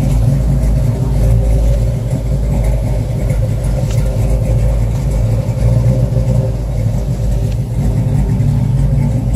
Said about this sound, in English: Both tires are spinning.